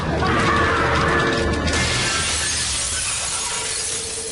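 A man crashes through a window in a loud burst of shattering glass, followed by a long spray of tinkling shards and debris that slowly fades away.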